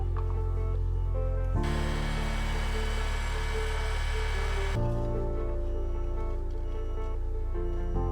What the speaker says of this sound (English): Clamp the acrylic, then use heat gun to bend it.